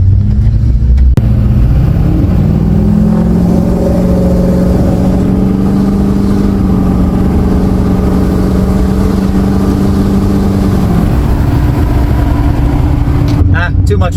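A Duramax LML diesel pickup fitted with a cold air intake revs from a stop as it accelerates, its loud engine drone climbing under heavy road noise, with a voice briefly heard.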